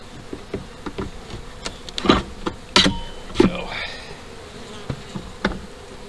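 Honey bees buzz around an open hive during an inspection, with individual insects zipping close past the mic against a low background hum, plus a few clicks and knocks.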